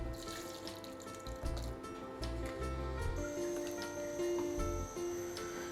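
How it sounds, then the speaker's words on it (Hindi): Water draining from grated potatoes through a strainer in a home kitchen, a soft steady trickle and splash with faint tonal hums, close and unaccompanied by speech. "अब मैं इन आलूओं को छान लूँगी"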